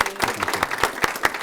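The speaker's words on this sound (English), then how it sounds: "I think a big round of applause for Steph for organising this week" Audience applause with a round of clapping for a week's organiser, sharp claps pulsing steadily across the room, loud and close, with a little voice noise mixed in.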